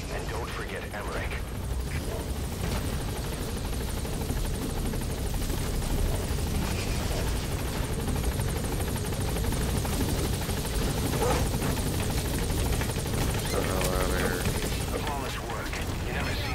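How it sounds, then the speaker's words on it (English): Helicopter in Metal Gear Solid V touching down, a loud steady rotor roar that fills the whole stretch, with voices talking over it. "Alright, the chopper's touching down."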